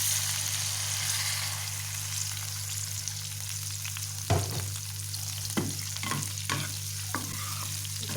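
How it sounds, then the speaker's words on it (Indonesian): Chopped onion and spring onion stirred and sautéed in a hot pan for sweet and sour chicken, a steady close sizzle broken by several spatula scrapes and knocks in the second half, no speech. "Aduk ya, tumis hingga harum."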